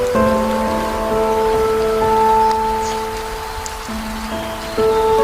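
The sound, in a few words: rain falling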